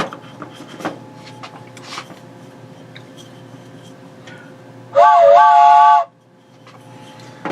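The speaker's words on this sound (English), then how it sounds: "When he says cowbell, I'm sure he means train whistle." A brief whistle blast, loud and sustained for about a second, stands out over quiet background rustling and small knocks.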